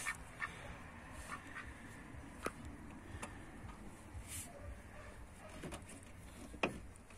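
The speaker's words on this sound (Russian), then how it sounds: "Вот он, товарищ утка," A duck quacks in short, scattered calls near a car where injector nozzles are being flushed, amid a steady mechanical hum and occasional clicks, with no one speaking.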